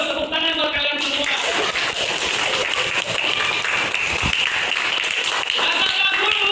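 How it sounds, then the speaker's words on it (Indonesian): Schoolchildren clapping together in a classroom, a dense burst of applause with excited voices and shouting mixed in throughout. "Tepuk tangan buat kalian semua."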